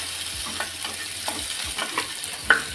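Onions fry in a pan for a crab curry, a steady close sizzle with repeated scraping stirs of a spoon against the pan and no talk.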